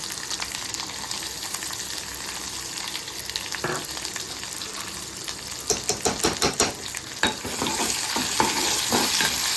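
Garlic and onion fry in a pan, a continuous sizzle broken by a burst of quick metallic scrapes and clinks as the spoon stirs, after which the frying grows louder and fuller.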